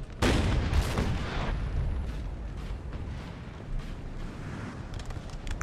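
Artillery barrage in a Napoleon Total War battle against French forces: a loud opening boom followed by a continuous rumbling wash of distant cannon fire and explosions, with no voices.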